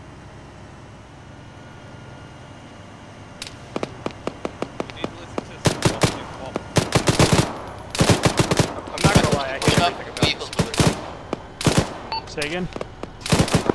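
Bursts of automatic gunfire crack out in a ShackTac military sim firefight, starting as scattered shots and building into dense, loud volleys, with a player briefly speaking over the shooting.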